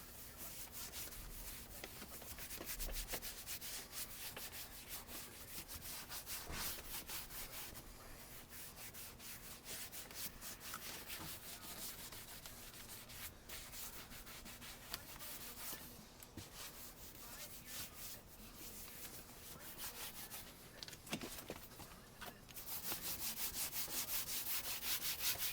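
Cracked leather car seat being scuffed by hand before painting, giving faint, repeated rasping strokes that continue throughout at low volume.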